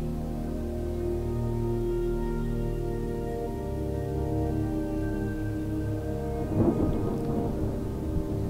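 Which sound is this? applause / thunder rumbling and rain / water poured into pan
thunder rumbling and rain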